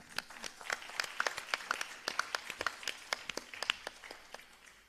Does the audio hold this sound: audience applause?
yes